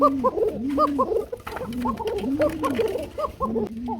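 Beauty pigeons coo in repeated rounded, rolling phrases, several birds overlapping close by in a steady rhythm, with faint background noise and no speech.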